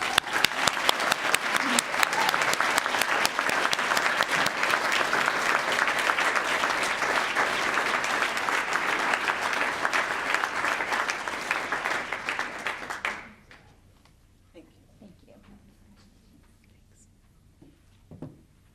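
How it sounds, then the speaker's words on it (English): An awards breakfast audience in a banquet hall gives sustained, dense applause for about thirteen seconds, then it cuts off abruptly into near silence with a few faint room noises. "Let's give her a round of applause."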